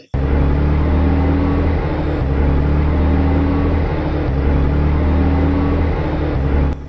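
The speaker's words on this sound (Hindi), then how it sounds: "हमारी गाड़ी खुद ब खुद चालू हो गई है।" A car engine runs loud and steady with a deep rumble and slight revving, sustained close by for several seconds; no voices are heard.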